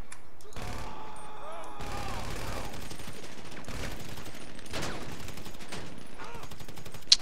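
Rapid gunfire in the GTA Online PC version, with dense bursts and single shots that go on through the clip under a steady game din, and people talk now and then.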